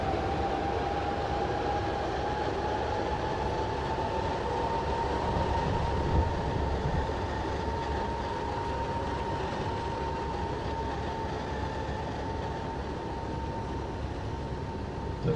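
S-Bahn S7 commuter train pulling away from a station, a steady rumbling drone with a sustained tonal whine over it, continuous and fairly loud for the whole stretch with no talk.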